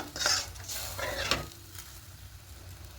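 A spoon stirs egg curry mixture with added water in a pan, giving a few scraping, wet stirring strokes up close and faint sizzling, then quieter stirring toward the end.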